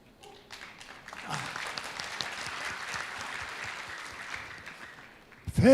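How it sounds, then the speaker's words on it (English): An audience at a Rotary event claps for a past district governor taking the stage, the applause swelling in after a quiet start, holding steady and then fading before a loud noise at the end. "a big round of applause"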